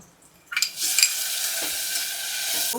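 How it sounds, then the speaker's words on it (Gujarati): Corn is tipped into a pan of onions and milk, with a short quiet lead-in and then a sudden burst of sizzling and stirring that settles into a steady close hiss. "અને હવે આપણે આમાં નાખશું કોર્ન"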